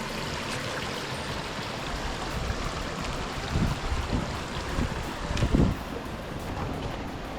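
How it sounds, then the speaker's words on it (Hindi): A small river crossed on foot along the trail to Chauragarh temple in Pachmarhi, heard as a steady rush of flowing water with wind buffeting the microphone and a few louder splashy bursts partway through. "बीच रास्ते में हमें एक नदी जैसा मिला है।"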